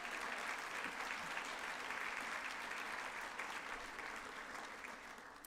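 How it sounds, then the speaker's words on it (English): An audience claps for committee members at a gratitude gala, a dense, steady round of applause from a crowd that holds for several seconds and eases slightly at the end. "let's give them a big round of applause as well"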